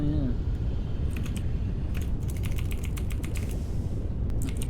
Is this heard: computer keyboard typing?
yes